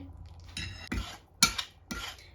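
A spoon scrapes and stirs wheat flour roasting in a pan for the Gujarati sweet sukhdi, making four or five short, close metallic scraping strokes separated by brief pauses, with no talk.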